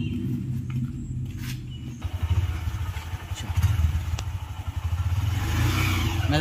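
Motorcycle on a college campus starting and revving near, its low engine rumble rising in uneven bursts and holding a steady throaty idle between throttle blips, with no talk.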